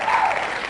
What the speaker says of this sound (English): Yes, I hear the virtual clap.